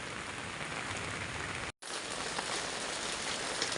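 Steady rain patters on a surface, an even hiss that holds throughout with a brief dropout partway through.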